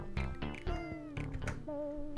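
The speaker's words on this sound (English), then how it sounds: "Oh, the music has cats." Cat meows repeat through the music of an indie dating-sim video game, several short mewing calls sitting over the steady melodic score.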